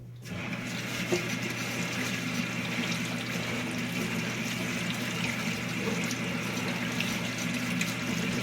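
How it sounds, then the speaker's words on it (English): A steady stream of cold tap water runs and splashes continuously over filter media from a Fluval 306 aquarium filter, a close, even rushing sound with no voices. "We're going to run cold water on them"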